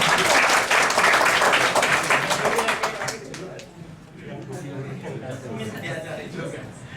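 A group of people clap their hands together for a few seconds, loud and close, then the clapping fades out into a murmur of voices.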